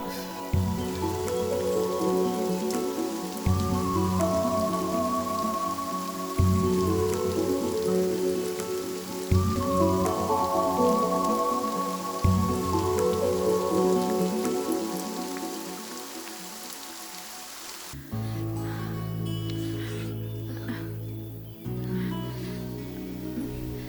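Steady rain pours down outdoors, a dense continuous hiss lasting throughout, with a low rhythmic background pulse and a change in texture near the end.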